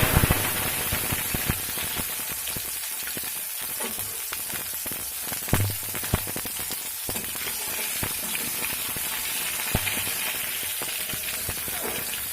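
Chopped tomato and bay leaves frying in mustard oil in a wok, a steady loud sizzle with crackling pops throughout, no talking.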